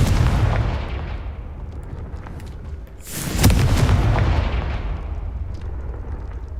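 A Confringo fire spell explodes in the Hogwarts Legacy video game: a loud roar that fades, then a sharp blast about midway swells into a long rumbling decay, with no voices over it.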